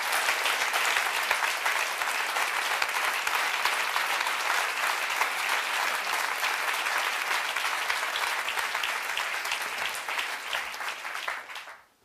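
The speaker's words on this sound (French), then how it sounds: "Vous pouvez vous applaudir." An audience at an awards gala applauds steadily and loudly for about eleven seconds. The clapping is dense and continuous, then fades out quickly at the end, with no speech over it.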